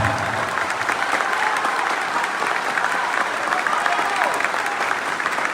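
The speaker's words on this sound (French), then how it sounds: "je vous demande de vous applaudir avec la plus grande puissance" Sustained applause from a large crowd at a press conference, dense and steady clapping with scattered cheers, loud and continuous throughout.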